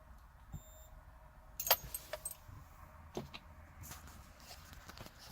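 A 1988 BMW 325ix key fob and keys jangle and click close by, with a few sharp clicks and soft rattles against a quiet background.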